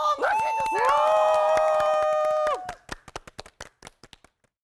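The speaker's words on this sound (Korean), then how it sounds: "박수로 맞이해주세요" An audience welcoming a guest onto a stage gives a sustained, ringing cheer that stops abruptly, then a scattering of a dozen or so separate claps that thin out and fade.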